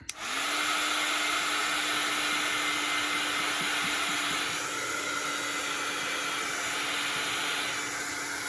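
A hair dryer blows steadily on wet decoupaged paper on Christmas tags, a loud continuous whooshing hiss with a fixed motor whine that runs from start to finish with no talking.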